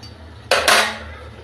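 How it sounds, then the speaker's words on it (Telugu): A spoon scrapes and clinks twice against a metal pot while sugar dissolves in water into syrup for boondi laddu, two quick bright strokes close by over quiet room tone. "చక్కెర బాగా కరిగేంత వరకు ఇలా కలుపుతూనే ఉండాలి."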